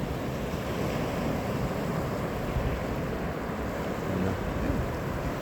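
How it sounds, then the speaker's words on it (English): Ocean surf rolls onto a windy winter beach, a dense continuous roar of breaking waves mixed with wind buffeting the microphone, loud and steady with no talking. "Some surf."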